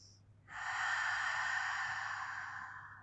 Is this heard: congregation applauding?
no